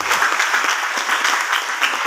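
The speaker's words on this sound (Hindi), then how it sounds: "एक बार जोरदार ताली बजा।" Loud, sustained clapping from a large audience at a Hindi-language team meeting, a dense steady roar of many hands with no pauses, close and full throughout.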